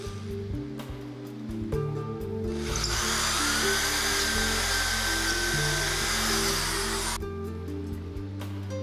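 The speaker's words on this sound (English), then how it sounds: "find suitable locations and drill 2 1/4 inch holes through both braces" A power drill boring 2 1/4 inch holes through wooden braces whines steadily for several seconds, a loud continuous high-pitched grinding that starts and stops abruptly, with a low hum underneath.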